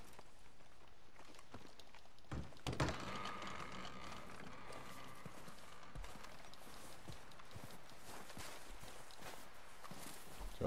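Horse hooves clip-clop at a steady walking pace in Red Dead Redemption 2, moderately close and carrying on over soft game ambience, with a few louder clatters partway through.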